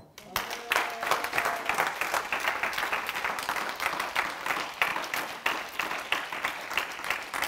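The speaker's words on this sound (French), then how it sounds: "Est-ce que les princesses et les princes peuvent acclamer le roi?" A church congregation claps and cheers to acclaim the king during a worship service, dense sustained applause building quickly after a quiet start and continuing evenly throughout, with crowd voices mixed in.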